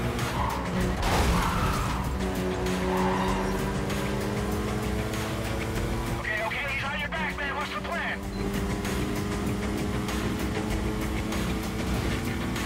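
Race car engine and tire squeal in the Need for Speed Carbon video game, a steady loud engine roar throughout with a brief screeching skid in the middle, under a voice talking.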